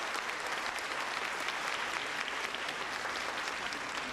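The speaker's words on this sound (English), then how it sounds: "Ladies and gentlemen, please give them another big round of applause." Audience applause fills a lecture hall at the close of the 2016 Tang Prize laureate lectures in biopharmaceutical science, a dense, steady clapping from a large crowd lasting several seconds with no talk over it.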